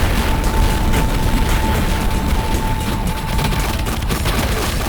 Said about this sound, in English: I'm just going to get out the double pistols and just akimbo them to death.